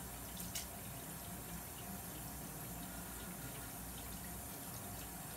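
Warm water runs steadily from a household tap at a faint, even level, a continuous gentle hiss with no talk, as water is drawn for a home science experiment.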